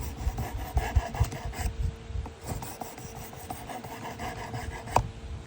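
A Gerber Sportsman knife blade is drawn repeatedly across a ceramic sharpener, giving close, rhythmic scraping strokes that are loud at first and then lighter.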